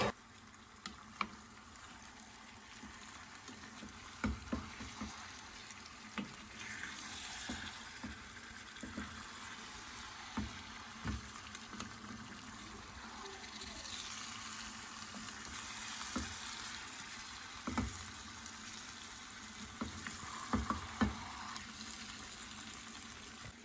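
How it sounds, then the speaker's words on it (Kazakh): Chopped horse meat fries in its own rendered fat over onions for Kazakh quyrdaq, giving a soft, steady sizzle with scattered spoon scrapes and clicks from stirring throughout, fairly quiet and with no talking. "Туралған етімізді қуырылған майымызбен жуамыздың үстіне салып, жақсылап 1-2 болғанша араластыратын боламыз."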